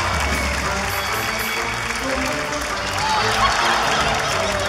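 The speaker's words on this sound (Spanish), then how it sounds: "Fuerte el aplauso para el cojo." Applause from a studio audience at a comedy game show taping, steady clapping spread across the room with a few faint chuckles and murmurs mixed in throughout.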